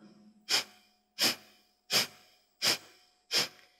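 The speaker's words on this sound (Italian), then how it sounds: "respiro con l'addome in dentro ogni volta che espiri, respiro forte, dinamico" Five strong, forceful exhalations during a dynamic yoga practice come in a steady, regular rhythm. Each is a close, loud, breathy puff, with no talking.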